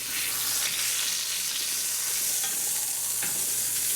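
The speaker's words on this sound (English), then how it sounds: "once we have it seared good, 5-7 minutes on one side, we're going to try to flip it here." A large pot roast beef searing in a hot pan, a dense, steady hiss of sizzling fat with a faint scrape as the meat is shifted and turned.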